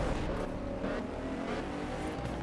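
A Bentley racing in Forza Horizon 4, its engine a steady, loud, continuous drone with a sustained mid-range roar and no pauses.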